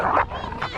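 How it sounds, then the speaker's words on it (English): A pit bull fighting a rival dog gives off a close, strained vocal burst, then a second snarling, whining cry a moment later, over rough continuous noise. "Pit bull is attacked by a rival dog."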